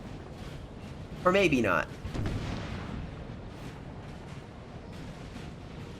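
Artillery booms in the Napoleonic Total War 3 game during an 1809 corps battle, a rumbling burst of cannon fire heard at a distance, with someone talking over it.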